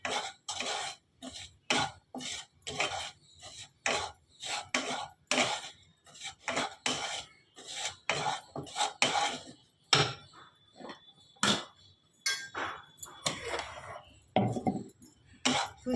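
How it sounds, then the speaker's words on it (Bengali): Semolina dry-roasting in a pan is stirred with a utensil, giving rhythmic, close scraping and clattering strokes that repeat steadily throughout, with no talking. "আমি আগে সুজিটা ভেজে নেব"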